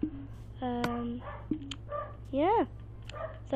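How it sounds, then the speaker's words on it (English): Several dogs bark and yip nearby in a series of short barks and a rising whine, mixed in with a man's speech and sounds from a Minecraft game. "If you can hear those dogs in the background, those are my real dogs"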